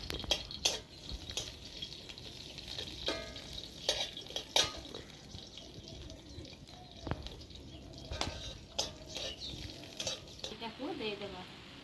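Chopped onions frying in mustard oil in a pan give a steady close sizzle, broken by repeated scraping and clattering strokes of a stirring spoon throughout.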